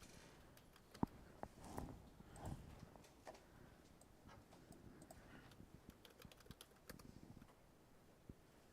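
Fingers tap a command on a computer keyboard, a faint, uneven patter of key clicks with a few sharper knocks spread over several seconds in a quiet room.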